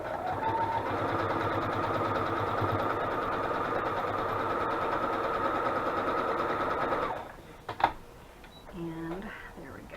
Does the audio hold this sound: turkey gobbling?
no